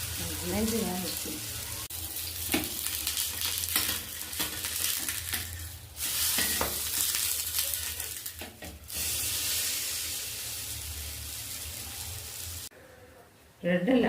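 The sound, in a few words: bread frying on a dosa griddle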